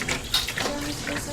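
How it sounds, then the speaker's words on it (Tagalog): Tap water running into a sink or basin in a home kitchen while chicken is being cooked, a steady close splashing wash lasting about a second. "Tubig."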